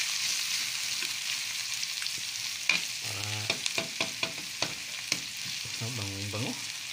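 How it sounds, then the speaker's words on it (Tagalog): Onion, tomato, ginger and garlic sauté in a hot pan for adobo with chicken liver and gizzards, a steady close sizzle broken by a few sharp stirring clacks, with a voice speaking over it at times. "Magisa mo na lang yung sibuyas, kamatis, luya,"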